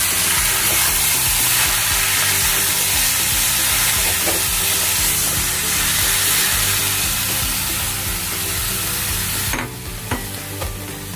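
Chopped tomatoes, with cashews and raisins, frying in a pan over high flame for paneer butter masala: a loud, steady sizzle and hiss with stirring underneath, easing slightly near the end.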